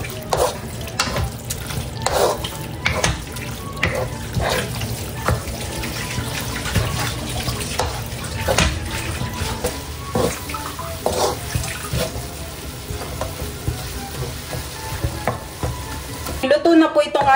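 Ground meat for lumpiang shanghai frying in a pan, with rhythmic scraping stir strokes repeating steadily over a constant close sizzle and no talk.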